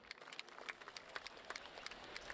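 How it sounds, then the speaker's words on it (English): A golf gallery applauds in a PGA Tour 2K25 round, quick dense clapping at low volume throughout, with no talk over it. "A lot of claps."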